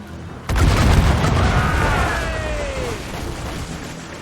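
Mortar fire booming at a ship in Assassin's Creed Rogue, one sudden heavy boom that rolls into a long rumbling roar with a whistling shell tone fading over several seconds.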